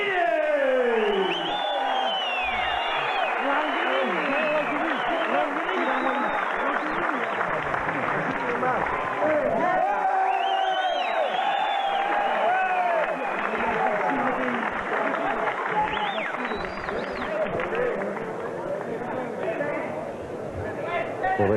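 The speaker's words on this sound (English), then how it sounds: "this big crowd just absolutely loves Stan the Man Longanides here in Australia" A big crowd cheers and applauds a World Kickboxing Association super heavyweight champion in Australia, a loud, steady roar of clapping and shouting that fills the whole stretch, with a commentator talking over it.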